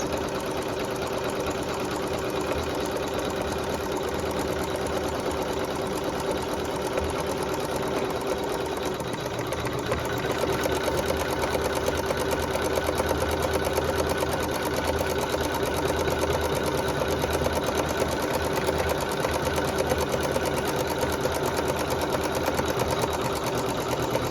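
A sewing machine stitches a wool butterfly appliqué along its placement line, running steadily and close for the whole stretch with a constant mechanical hum and rapid needle chatter, no talking.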